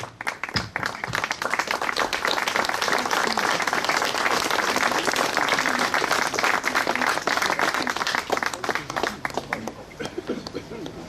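An audience in Bessan applauds a drum major at a November 11 ceremony, with dense, loud, close clapping that carries on steadily for about eleven seconds.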